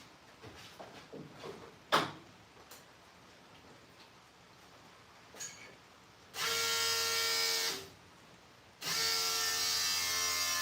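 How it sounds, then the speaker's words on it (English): An electric fuel pump in a garage car whirs on in two steady, loud bursts, each lasting a second or two, after some quieter clicks and knocks. "That's my electric pump."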